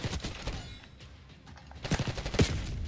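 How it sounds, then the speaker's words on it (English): Shotgun fire in the Black Ops 6 multiplayer video game, a burst of rapid booming shots at the start, then a pause, then another cluster of loud blasts, with no talk over them. "Ah, shotguns."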